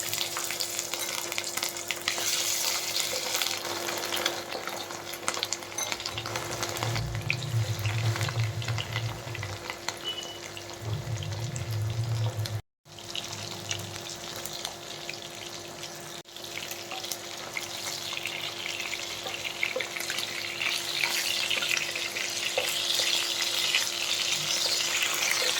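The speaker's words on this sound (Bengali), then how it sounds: "তেল গরম হয়ে গেছে, মাছগুলো ভেজে নেব।" Pieces of rohu fish fry in hot oil with a steady, dense sizzle that runs throughout. The crackle swells and eases at moments, cuts out briefly partway through, and there is no talking.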